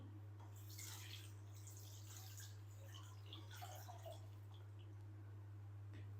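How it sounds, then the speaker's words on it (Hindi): Water is poured over cut potatoes in a kadhai, a quiet splashing trickle over a constant low electrical hum. "साथ ही हम इसी के ऐड कर देंगे पानी।"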